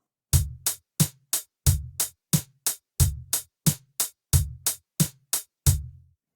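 A simple electronic drum loop programmed in FL Studio repeats evenly, with punchy kick thumps alternating with sharp snare hits and crisp ticks at a steady tempo.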